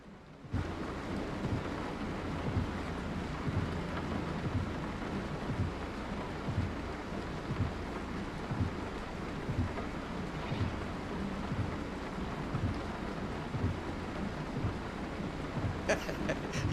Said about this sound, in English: that rain is loud when you stick your head out the window